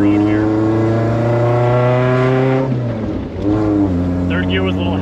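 Fiat X1/9 accelerating on a road in third gear: a loud, close engine drone climbing steadily in pitch, briefly dipping mid-way, then pulling again.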